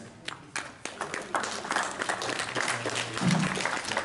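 A room full of people claps, steady applause building and holding for several seconds, with a few individual claps standing out up close.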